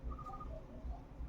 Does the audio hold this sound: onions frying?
no